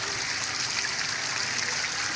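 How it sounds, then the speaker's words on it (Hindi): Water gushes hard and without a break from a burst water pipeline under high pressure. The dense, rushing roar is loud and close, with no talk over it. "ये देखिए पानी की पूरी लाइन फट चुकी है"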